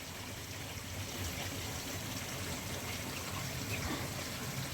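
A shower of water pours into a koi pond, a steady, continuous hiss of splashing with no breaks.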